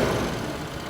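A Piaggio Vespa SXL 150cc scooter idles inside a showroom, its exhaust giving a steady, close, fairly loud low thrum with no talk.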